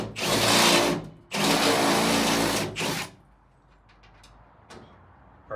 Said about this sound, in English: So the first thing I have to do is drill a couple of holes